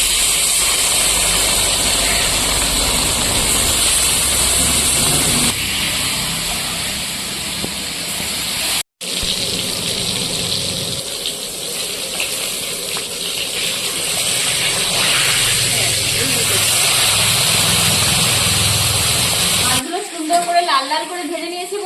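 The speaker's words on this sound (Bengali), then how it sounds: "মাছ ভাজার জন্য তেল দিয়ে দিলাম। মাছটা সুন্দর করে লাল লাল করে ভেজে নেব।" Pieces of fresh rohu fish fry in hot oil in a wok, with a loud, continuous hissing sizzle that breaks off briefly midway and then resumes, while a voice talks over it.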